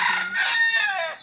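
A four-year-old fighting rooster, a gamecock, crows once in a short, loud, close call that rises and then trails off.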